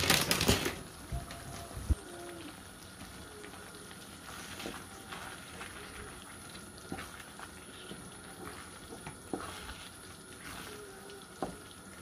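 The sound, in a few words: vegetables being added and cooked in a pan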